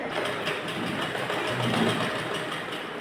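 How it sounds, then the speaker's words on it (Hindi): A sewing machine stitching golden lace onto a blouse runs in a continuous close whir with a steady mechanical hum, no talking over it. "सिलाई को यहाँ से ऐसे देखिए यहाँ से लगा देंगे"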